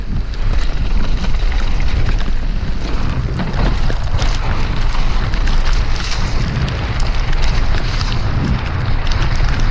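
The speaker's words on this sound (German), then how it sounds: "Regenwind ist hässlich." Strong wind buffets the microphone outdoors on a mountainside bike park in Crans Montana during rainy bad weather, a loud continuous roar with low rumbling gusts throughout.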